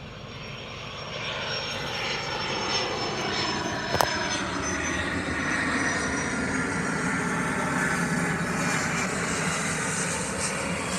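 Low-flying airplane passing overhead in Cleveland at night, a continuous loud engine roar with a droning hum that builds gradually across the whole stretch, with one brief sharp click partway through and no talking.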